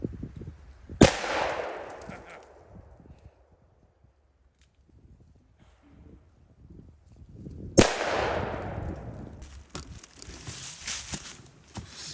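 A vintage 1970 Dan Wesson Model 11 revolver fires two sharp, loud shots about seven seconds apart, each followed by a long echoing decay, with quiet handling noise between them.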